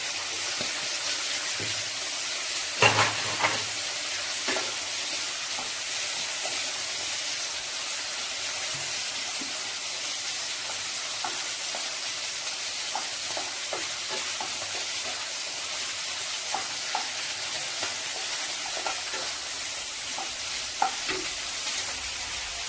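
Green chili pieces and chopped garlic fry with prawns in a pan for a hot and sweet prawn dish, giving a continuous loud sizzle broken by occasional scraping stirs and clinks of the utensil.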